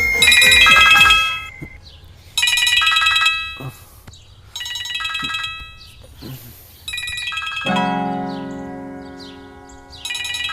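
A phone ringtone plays in loud repeated bursts of bright electronic tones, stopping and starting several times, then shifting to a lower sustained melodic ring.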